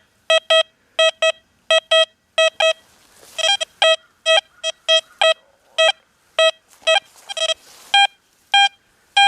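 A Deus 2 metal detector gives repeated bright electronic signal tones over a buried quarter and colonial nail in a field. The beeps come in short, rhythmic pairs and bursts with quiet gaps between them.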